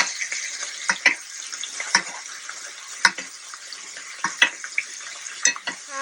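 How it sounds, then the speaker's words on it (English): Pork chops sizzle in a pan of sage brown butter while a spoon repeatedly bastes them, with steady frying hiss broken by irregular clinks and splashes of butter spooned over the meat. "and I want to baste"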